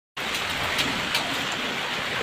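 Heavy monsoon rain pours steadily in Rayagada, a dense, constant hiss of downpour close by with a few brief louder splashes, and no voices.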